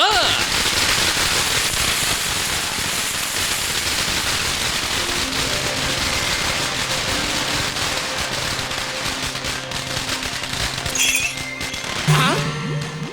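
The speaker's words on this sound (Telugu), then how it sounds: "నాకు ఈ టపాసులు అంటే కొంచెం భయం" Firecrackers burst in a dense, rapid crackling barrage that runs loud and steady throughout, with a voice breaking in briefly near the end.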